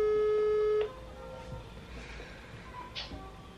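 A steady telephone tone holds for under a second before cutting off, leaving quiet room noise with faint faraway voices and small clicks.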